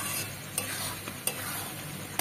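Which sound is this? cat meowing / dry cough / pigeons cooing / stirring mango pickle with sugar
stirring mango pickle with sugar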